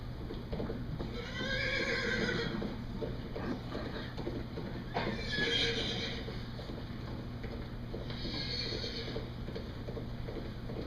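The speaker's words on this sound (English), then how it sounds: "Hark, I hear horses." Stage sound effect in a Macbeth theatre production: several horses whinny in turn, three drawn-out neighs spaced a few seconds apart over a steady low hum, with faint hoof clatter.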